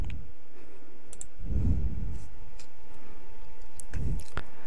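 A few isolated, sharp presses of Tab or Enter on a computer keyboard, spaced seconds apart over a steady background hum with faint low rumbles between them.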